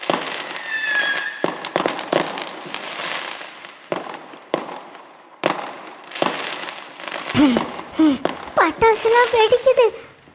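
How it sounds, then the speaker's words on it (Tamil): In a Tamil cartoon, firecrackers go off in a run of sharp, loud bursts and pops, spaced apart at first and then thickening into rapid crackling, with cartoon voices talking and squealing between the blasts. "பட்டாசுலாம் வெடிக்குது."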